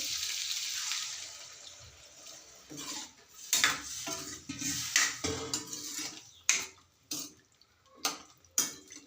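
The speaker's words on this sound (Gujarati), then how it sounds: "બટાકા ચડે એકદમ એટલું પાણી આપણે એડ કર્યું છે" Water is poured into a pan of potato, brinjal and pigeon pea curry, with scraping and clinking of a spoon against the pan in irregular bursts close by and no talking.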